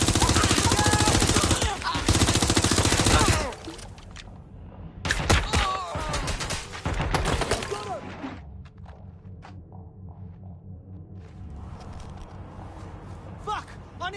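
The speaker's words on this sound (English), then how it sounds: "You've got gunfire!" Rapid automatic gunfire from a combat firefight in Watch Dogs Legion, loud and dense bursts in the first few seconds and again mid-clip, mixed with thuds and game effects, then dropping to a quieter ambient bed.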